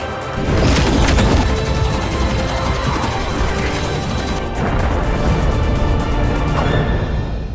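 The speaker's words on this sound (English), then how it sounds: "Orbital cannon incoming." Orbital cannon strike in a VR space game: a loud, sustained crashing barrage of impacts and booms rolling on for several seconds, dense and continuous with no pauses.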